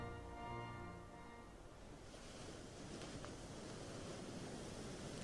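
Ocean waves rolling in as a soft, distant, continuous wash of surf, broad and steady, with no voices over it.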